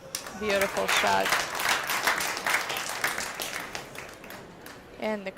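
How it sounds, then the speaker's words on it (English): Crowd applause erupts after a shot at a world 10-ball pool championship, a loud sustained burst of clapping that slowly fades, with commentators talking over it at the start and end. "And the crowd goes wild"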